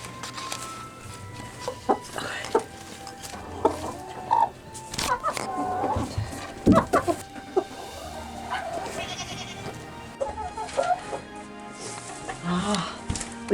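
Hens clucking while being fed, giving scattered short clucks and squawks near and far, with occasional bleat-like calls and feeding noises between them.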